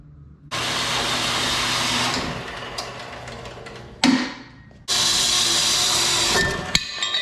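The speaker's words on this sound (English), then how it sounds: "I got the bandsaw out. We'll get some things cut and then we'll go from there." A bandsaw cuts small wooden sticks in two loud bursts of rasping, whining cutting, separated by a short pause with a thump, the motor hum lingering quietly between cuts.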